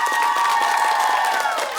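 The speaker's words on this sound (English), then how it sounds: "round of applause for Blanche Ely High." A school audience at a televised high school quiz competition gives a short burst of clapping and cheering, dense and steady, with a faint tone running beneath.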